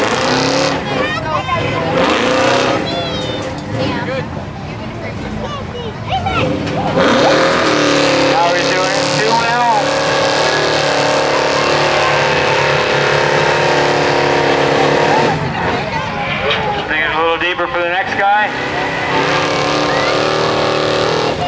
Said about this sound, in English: Over in the big pit, we got the big Chev coming.